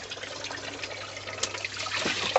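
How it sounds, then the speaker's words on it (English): Turtle tank water being poured away during a snapping turtle tank clean, a steady broadband splashing and trickling that runs continuously and fairly close, with a few sharper spatters near the end. "So we leave them, pour all this away."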